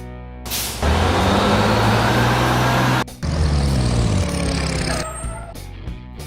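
A car carrier truck rumbles loudly and steadily with a deep engine drone, briefly cut around the middle, then continuing with some hiss like air brakes near the end.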